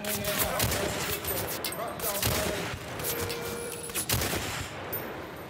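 Pistol gunfire in the video game Turning Point: Fall of Liberty, a series of loud bursts of shots mixed with heavy battle noise, with several distinct cracks standing out from the din.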